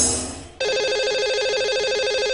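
A telephone line rings out on a live radio call-in show dialing the day's lucky caller, a steady repeating electronic ring tone that starts abruptly after a brief fading sound and continues alone.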